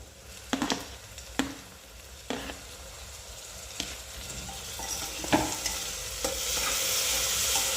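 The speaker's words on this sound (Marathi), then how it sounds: "आता आपण हे टोमॅटो टाकून घेऊया त्याच्यामध्ये" Tomatoes are added to golden-brown onions frying in a pan, with a series of sharp utensil clacks and plops followed by a rising, steady sizzle; no talking.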